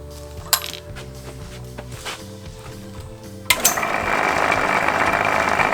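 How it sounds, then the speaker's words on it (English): A milling machine drills a 5/16 hole in a rod end held in a vise: a humming, stepping motor tone and a few metallic clicks, then a louder, steady grinding, hissing cut that carries on to the end. "So we set the milling machine up."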